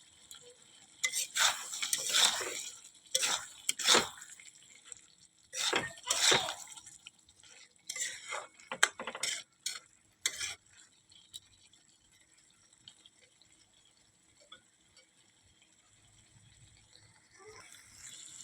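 Potatoes and fried onions stirred into a spice paste for a prawn and potato curry, the spoon scraping and clinking against the pan in several loud bursts, then quieter, softer stirring and faint sizzle.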